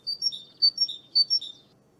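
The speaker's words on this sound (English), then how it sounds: "each array is like a family of birds, different kind of birds" Synthesized bird chirps played back in Unreal Engine MetaSounds, several quick high tweets in paired bursts with an even spacing, clean and close over a faint low hiss.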